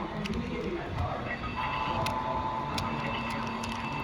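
An Athearn Genesis Southern Pacific GP9 model locomotive's sound decoder runs its startup sequence: a steady, fairly loud mechanical drone with a constant hum, faint ticking clicks spread throughout, and no talking.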